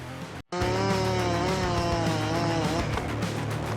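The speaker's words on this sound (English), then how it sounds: "The chainsaw has a compact yet powerful design, with a gasoline or electric engine encased in a durable plastic housing" A chainsaw, gasoline or electric, rips through wood, its engine roaring loud and close after a brief cut-out, pitch wavering slightly as the chain bites.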